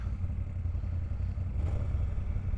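A Moto Guzzi V7 III Rough motorcycle fitted with an aftermarket exhaust rumbles steadily at close range, a continuous deep engine burble with no speech over it.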